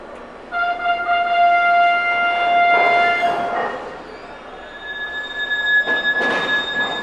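Train in Sicily rolling onto a ferry at the Strait of Messina: nearby wheels squeal in long high tones over a low rolling rumble, with a swell of clanking midway and again near the end, no voices.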